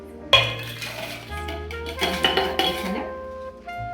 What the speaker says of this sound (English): I'm gonna go ahead and do crushed ice.